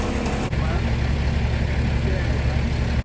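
A 2004 Mazda RX-8 barn find that had not been started in two years, its engine running steadily and loud close by, a low continuous rumble after a brief jolt near the start.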